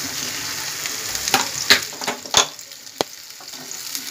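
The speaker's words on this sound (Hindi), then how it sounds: "तेल गर्म हो चुका है, अब इसमें मैं भिंडी को डाल दूँगी।" Okra sizzles as it drops into hot oil in a pan on a gas stove, a steady crackling fry broken by a few sharp spits and clatters of stirring, close and fairly loud with no talking.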